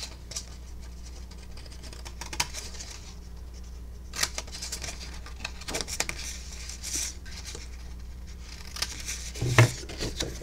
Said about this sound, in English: Just go ahead and cut off these two corners.